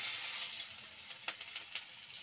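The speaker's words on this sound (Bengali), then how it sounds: "পেঁয়াজ আর ক্যাপসিকাম গুলো আমি দিয়ে দিচ্ছি" Onions and capsicum for chilli chicken fry in a pan, giving a soft, continuous hiss with light crackles and a few faint stirring scrapes, quiet and close.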